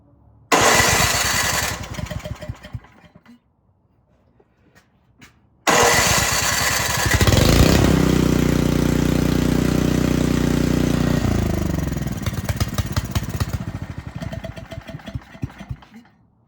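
A Craftsman snow blower that previously would not start fires briefly and sputters out, then after a pause starts with a loud roar and keeps running steadily before its revs fall and waver toward the end.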